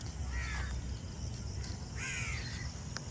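Near their nest above the rice fields, crows give two clear rounds of harsh, drawn-out caws against a steady open-air hum, with faint chirping insects underneath.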